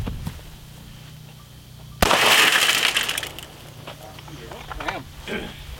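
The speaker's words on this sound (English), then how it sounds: "I'm gonna be shooting 124 grain gold dot" A 124-grain Gold Dot round fired into vehicle glass gives one sharp, loud gunshot with a bright crash of breaking glass and a short rattling tail, with someone speaking nearby.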